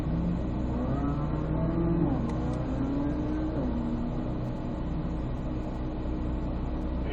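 A car braking hard from 40 mph on an ABS stop run, a steady broadband engine and road roar with shifting tonal hum, continuous and fairly loud, no voices.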